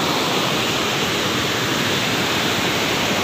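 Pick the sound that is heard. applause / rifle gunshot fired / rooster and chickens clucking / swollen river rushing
swollen river rushing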